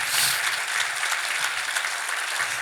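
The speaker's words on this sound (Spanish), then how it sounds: "¿Cuántos pueden aplaudirle?" A church congregation applauds during a Spanish-language sermon, a dense, steady wash of clapping from many hands that fills the room at an even level throughout, with a slight surge right at the end.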